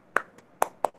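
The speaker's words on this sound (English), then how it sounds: "Unmute and clap hands for yourself." Young kindergarten children in an online class clap their hands, giving three sharp, quiet claps in quick, uneven succession, heard alone without talk.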